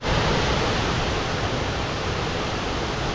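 Waterfall roaring on a hiking trail in the rain, a loud, steady broadband rush of falling water that stays constant throughout, close and alone with no voices.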